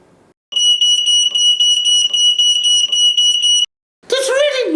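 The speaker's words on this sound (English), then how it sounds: "it detects smoke, and if it finds some smoke, it warns us by making a really loud sound." A smoke detector blares a loud, piercing high beep in rapid repeated pulses for about three seconds close by, then stops, followed by a brief voice.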